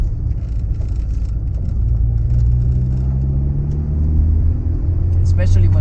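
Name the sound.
Nissan Sunny Coupe GTi engine driving on mountain roads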